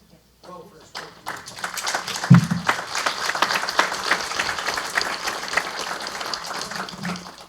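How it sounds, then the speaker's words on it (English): A room at a town meeting breaks into applause that swells quickly and stays loud and dense, a crowd clapping together with a few voices mixed in. "I'd like to give a round of applause for Ralph for his"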